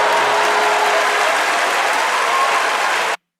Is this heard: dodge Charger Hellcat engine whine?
no